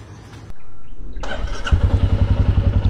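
A motorcycle engine cranks and fires up, settling into a loud, close, rhythmic idle that thumps steadily after a brief starter whir.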